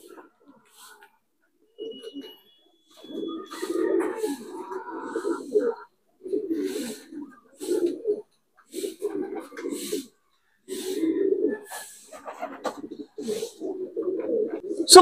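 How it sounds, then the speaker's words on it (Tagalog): Pigeons cooing in repeated throaty bursts, several birds close by, with some wing flutters and faint background noise between calls. "O, kompleto na kalapati natin."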